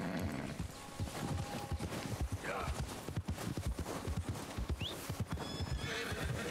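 Rhythmic clip-clop of horse hooves walking in the video game Red Dead Redemption 2, with a couple of whinnies rising over the steps; a voice talks faintly in the background.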